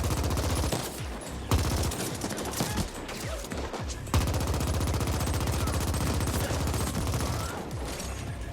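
Sustained gunfire and explosions from The Ascent, an action game running on a Steam Deck, roll on continuously and loudly, with rapid bursts and a few sharp heavy blasts punctuating the dense barrage.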